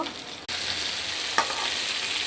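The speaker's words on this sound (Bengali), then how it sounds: "মাছ আমার এক পিঠ ভাজা হয়ে গিয়েছে, এখন আমি উল্টে দেব।" Fish fries in hot oil with a loud, steady sizzle and one brief clatter, close by with no voices.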